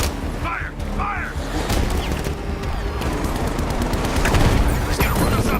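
Dense, sustained gunfire from the video game Batman: Arkham Knight, loud and continuous rapid automatic bursts with booms and mechanical clatter throughout, while a brief voice shouts near the start.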